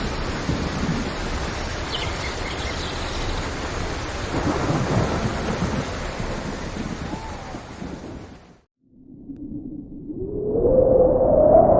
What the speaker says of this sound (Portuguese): chuva caiu com força sobre a terra